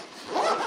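A zipper on a Lidl sewing machine bag, drawn closed in one short, close rasping pull with no talk.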